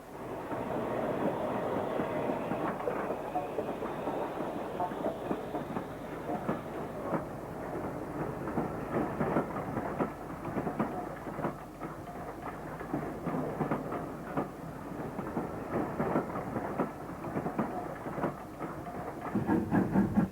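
A steam locomotive train rumbles past steadily at close range, with a continuous heavy roar and rhythmic clanking of wheels throughout, growing slightly louder toward the end.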